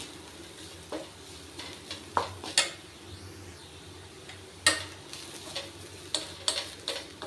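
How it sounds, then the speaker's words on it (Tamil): Garlic fries in a little oil while being stirred nonstop for garlic powder, a soft continuous sizzle broken by sharp, irregular scrapes and clicks of a spoon against the pan, close and clear. "நான் கொஞ்சமாக விட்டு கைவிடாமல் வறுக்கிறேன்"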